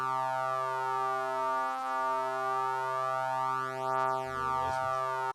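Synthesized sung vowel built from singing-voice formants, a steady buzzy electronic tone rich in harmonics, held evenly for about five seconds before cutting off abruptly.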